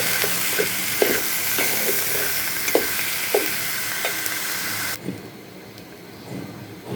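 Mung dal sizzles steadily in a hot frying pan, with periodic scraping clicks from stirring; the loud frying hiss drops off abruptly near the end, leaving quieter crackles.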